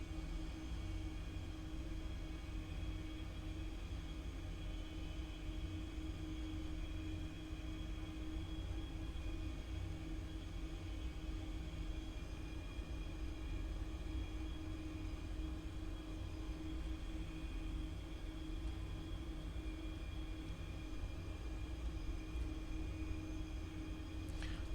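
A Boeing 737-800 jet engine spools up at about 30% thrust, a steady low rumble and whine heard continuously from inside, unchanging and fairly quiet throughout.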